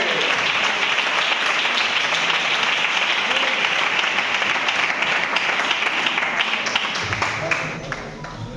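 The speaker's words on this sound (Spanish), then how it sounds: "ese aplauso para Dios, dáselo más fuerte" A church congregation in Santoña claps loudly and continuously during a service, a dense wash of applause that holds steady and then drops away in the final second.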